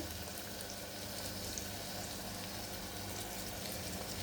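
Chopped tomato sautéing in a pan for chhole, a steady soft sizzle and crackle of frying that holds evenly throughout without pause, no voices over it.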